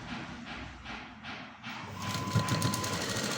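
A sewing machine stitches a sleeve lining in a few quiet pulsing bursts, then runs a little louder toward the end.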